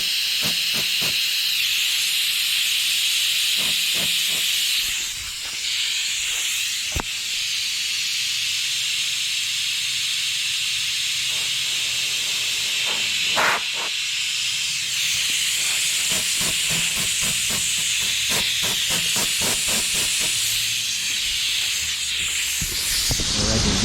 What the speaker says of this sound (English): I gotta get my blower hooked up. I guess gotta replace the piece there. It's all wore out. It's leaking air.